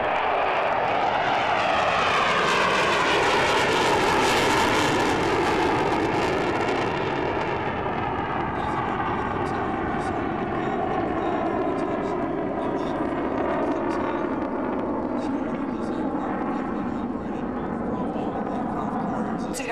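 A military F-15 jet lands at the Aviation Nation 2007 air show at Nellis Air Force Base. A loud, continuous engine roar and whine sweeps and slowly shifts in pitch as it passes, with an announcer talking over it.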